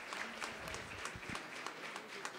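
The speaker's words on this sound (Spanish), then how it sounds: "Un aplauso, Marijó, por favor." Audience applause at a public forum on rare diseases, greeting a woman named Marijó as she is called forward; steady, moderately faint massed clapping with a few lone voices, lasting just over two seconds.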